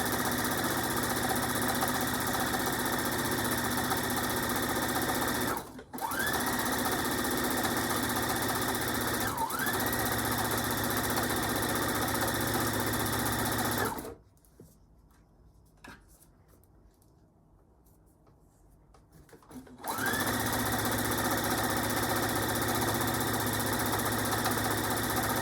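A sewing machine runs a zigzag stitch at a steady motor hum with rapid needle vibration, pausing briefly twice, then stopping for several seconds before resuming.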